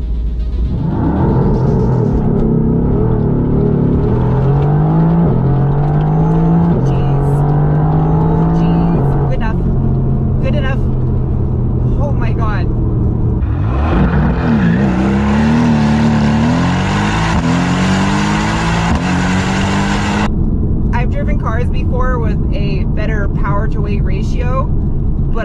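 A 2020 Mercedes-AMG GT R revs hard, its engine note climbing and falling in loud, sustained surges across the clip, with a brief lull midway and a raspy roar near the end, while people talk over it.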